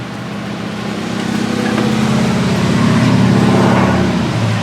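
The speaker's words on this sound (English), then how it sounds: "I knew I heard that car. Ain't no other car sounds like that." A car with a distinctive engine sound drives by, a steady low rumble that swells gradually and stays loud near the end, with no talking.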